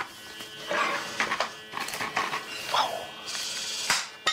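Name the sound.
Aladin food smoking gun running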